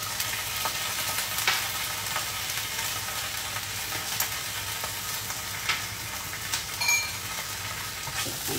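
A beetroot and paneer seekh kebab mixture with green chilli and ginger-garlic paste fries in a pan, sizzling steadily close up, with occasional stirring scrapes and crackles and no voices.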